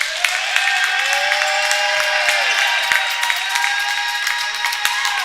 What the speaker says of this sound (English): That got the crowd hyped up.